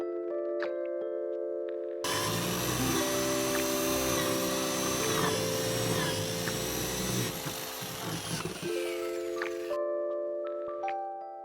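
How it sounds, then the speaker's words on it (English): A power drill whines steadily for about eight seconds, loud and close, drilling a water outlet hole in a bonsai pot, with a faint electronic hum before and after. "Next step is to drill the hole for the water outlet."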